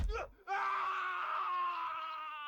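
A man lets out a drawn-out, strained scream of pain as a household steward is kicked behind the knee, a short sharp crack leading into the cry, loud and close in a dramatized scene.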